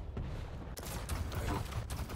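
Rocket fire and explosions in a fast first-person shooter duel, a dense loud burst of booming blasts and rapid impacts packed into a couple of seconds.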